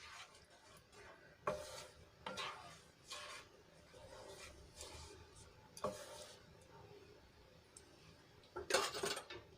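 A spoon clinks and scrapes against a pot in slow, irregular strokes while stirring buttermilk and water into gravy, quiet with a faint background hum.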